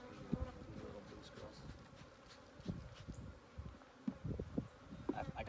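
Honey bees buzz inside an opened hive brood chamber during a spring colony check, a steady close insect hum with louder swells and short bursts as frames are pulled apart, no talking.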